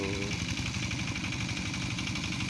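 Tractor engine idling in a rice field, a steady close rumble with a fast even pulse and constant mechanical hum, loud and unchanging throughout.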